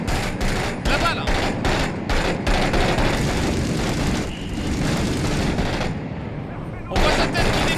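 Gunfire from the video game 6 Days in Fallujah crackles in repeated sharp bursts and rapid volleys throughout, loud and close, with a low aircraft-like rumble beneath and a voice speaking over parts of it.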